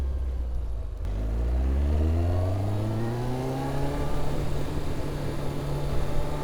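A motorcycle engine rises steadily in pitch as it accelerates through the gears, then settles into an even drone with road and wind noise, heard up close with no talking.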